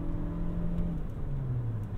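A 2021 Toyota Venza SUV accelerates at full throttle on Colorado roads, its engine note loud, close and climbing over a brief burst.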